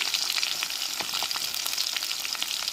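Onion and garlic, added with a little cumin for a dried-fish thokku, fry in a pan with a bright, dense crackling sizzle that carries on evenly through the short stretch.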